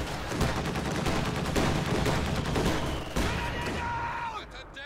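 Gunfire and explosive bursts from sniper fire and mortar bombardment in the Power Struggle strategy game, with a dense, continuous barrage of loud shots and blasts layered together throughout.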